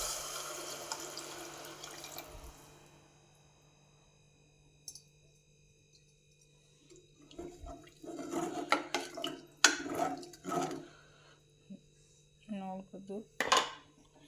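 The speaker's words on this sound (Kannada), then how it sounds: "4 ಕಪ್ ನೀರು ಸೇರಿಸ್ಕೊಳ್ಳೋಣ." Water is poured into a pot for cooking rice, about four cups for two cups of rice, a faint splashing stream followed by clinks and knocks of the pot and utensils.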